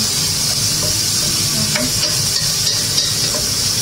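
White onion frying in a hot pan, a loud steady sizzle with a bright hiss throughout and a few soft scraping stir sounds, no voices.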